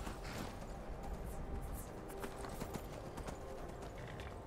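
Hooves of a horse in Skyrim clop along at a steady pace, quiet and rhythmic, over soft game background noise.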